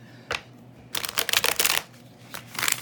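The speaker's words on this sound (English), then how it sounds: "let's go ahead and give a shuffle to our tarot cards" A deck of tarot cards being shuffled up close, a short riffle followed by a longer run of crisp rapid flutters and a final burst, with no talking.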